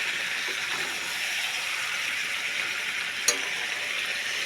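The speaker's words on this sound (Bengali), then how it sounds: "এখন ভালো করে আমাকে কষিয়ে নিতে হবে আলুটার সাথে" Potatoes and chicken sautéing together in a pan for a curry, a steady bright sizzle and fry that holds throughout, with one brief clink of a utensil near the end.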